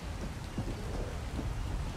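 Steady rain pours with low rumbling thunder rolling underneath in a stormy night scene in the video game ARK: Survival Evolved, a continuous wash of sound with no voices.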